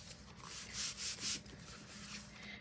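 A hand burnishing and rubbing paper flat onto a composition notebook cover, soft close-up swishing strokes with a few louder sweeps in the middle, quiet and alone.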